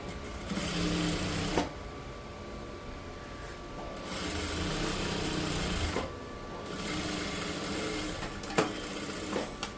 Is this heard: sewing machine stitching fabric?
yes